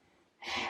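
A single short, sharp sneeze bursting out of quiet breathing, close and fairly loud.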